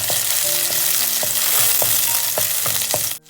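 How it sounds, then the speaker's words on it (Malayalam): Crushed garlic, ginger and green chilli sizzle loudly in hot oil for a crab roast. A steady frying hiss runs throughout, punctuated by regular spoon scrapes against the pan, and ends abruptly. "എണ്ണ ചൂടായിട്ടുണ്ട്. അതിലേക്ക് വെളുത്തുള്ളി ഇഞ്ചി ചതച്ചത്, പിന്നെ പച്ചമുളകും. ഇനി നമുക്കൊന്ന് നന്നായിട്ട് വഴറ്റാം."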